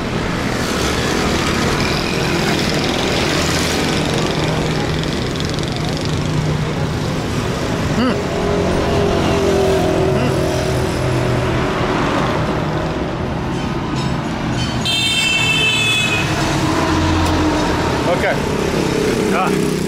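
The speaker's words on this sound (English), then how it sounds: "we're walking against traffic here" Dense street traffic in Orangi Town, Pakistan: a constant loud roar of engines, motorbikes and passing vehicles, with people talking nearby and a brief horn-like tone.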